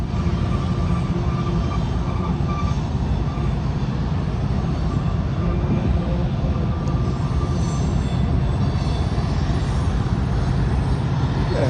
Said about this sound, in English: Got a triple combo of trains here for you.